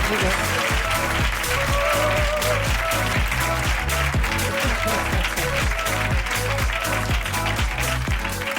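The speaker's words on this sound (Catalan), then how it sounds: "Aplaudiment" Audience applause in a studio for a Catalan comedy talk show, a steady dense wash of clapping mixed with music throughout, loud and continuous.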